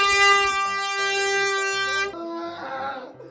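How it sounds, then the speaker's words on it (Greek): A handheld air horn blares as one loud, sustained, brassy tone lasting about two seconds, then cuts off as shouting voices and commotion follow. "Παίρνει την κόρνα!"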